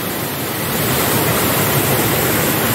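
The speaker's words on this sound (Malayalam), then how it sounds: "ഇവിടുന്ന് ചാടി വരട്ടെ വെള്ളം ഇത് നേരെ താഴത്തേക്ക് പോവാണേ" Water from the Ayyappan Chola waterfall plunging straight down, a loud, dense, unbroken roar of rushing water heard close by, with no speech.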